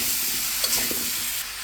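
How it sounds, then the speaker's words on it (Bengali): Ash gourd pieces salted and stirred in a frying pan hiss with a steady sizzle, while a spatula scrapes briefly through it, close and alone. "লবণটা দিয়ে একটু নেড়ে চেড়ে মিশিয়ে দিচ্ছি"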